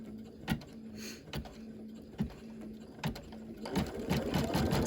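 An embroidery sewing machine stitches down a spring design piece, its steady motor hum carrying a rapid needle patter in short bursts, close and moderately loud, with no voices.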